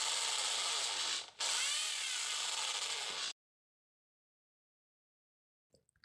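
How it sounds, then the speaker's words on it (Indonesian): A power drill bores a hole through a small 15 cm ruler, roughly at the 9 cm mark, with a loud steady whine that dips briefly and then cuts off, leaving near silence. "Kemudian saya membolongkan penggaris tersebut dengan bor kira-kira pada"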